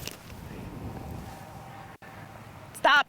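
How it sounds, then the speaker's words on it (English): Strong wind gusting across an open golf course, a steady broadband rush of wind buffeting the microphone throughout, with a brief dropout and a short burst of voice near the end. "Dude, this is so much wind."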